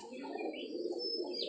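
A captured female Giribaz high-flyer pigeon coos in a low, steady rumble close by, with faint higher chirps from other birds over it.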